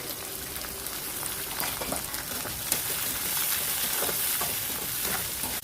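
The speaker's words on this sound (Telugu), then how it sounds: "ఉల్లిపాయలు కొంచెం మెత్తబడేంత వరకు వేయించుకోవాలి." Thinly sliced onions frying in a pan, a continuous close crackling sizzle with faint scattered utensil scrapes, steady throughout.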